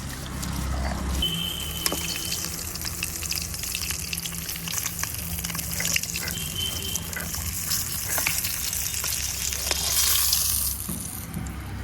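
Oil frying and sizzling in a pan on a home kitchen stove, a steady crackling hiss running throughout with occasional clinks and stirring scrapes, close and moderately loud, no talking.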